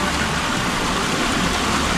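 Strong flowing water in a stream at night, a loud, constant rushing wash close by with no letup, and faint voices beneath it.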